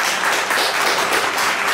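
A crowd claps and applauds, a dense, steady patter of many hands lasting under two seconds.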